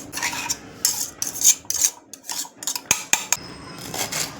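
A knife chopping ginger finely for village-style coriander flatbreads, with a run of crisp, close, uneven taps and scrapes on a board.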